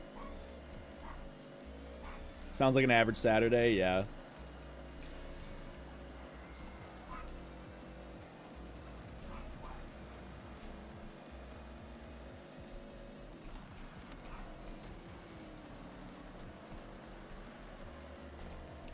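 A loud dog barks indoors in a quick burst of a few sharp yips and barks, near and prominent, followed by quieter room sound while a person talks briefly.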